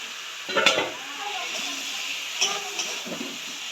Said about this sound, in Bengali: ভেজে রাখা বেগুনটা অ্যাড করে দেবো